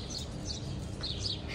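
Small birds chirp and tweet at a feeding spot where food has been laid out, bright intermittent calls over a steady broadband background hiss, moderately faint and continuous throughout.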